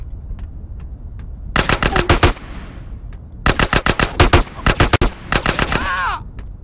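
Automatic gunfire in GTA San Andreas rattles out in three long, rapid bursts, loud and close, separated by brief pauses, with a few faint single shots before and a short game sound effect at the end.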